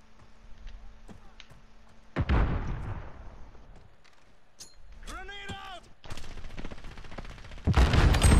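Call of Duty Modern Warfare gunfire in a 2v2 match: scattered sharp shots with a couple of heavy bursts and loud impacts, mixed with game effects.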